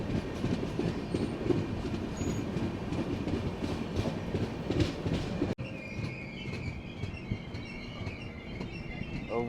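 Train 17040 running from Goa to Secunderabad, heard from on board: a steady, loud rumble of wheels and carriages with faint clicking, then a sudden shift to a thinner rolling hum with high squealing tones.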